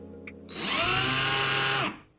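A power screwdriver spinning a drill bit clamped in its chuck whirs up to speed and runs steadily for over a second, loud and close, then winds down; a faint click comes just before.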